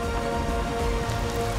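Heavy rain pours steadily onto a construction site during earthworks, a dense continuous hiss with a low rumble beneath, loud and unbroken, with no talking.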